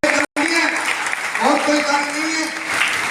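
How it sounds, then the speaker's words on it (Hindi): An audience applauds a man at a Hindi motivational speech, with dense continuous clapping that runs throughout while a speaker's voice carries on over it. "इसलिए उस आदमी एक बार तालियां बजाइए"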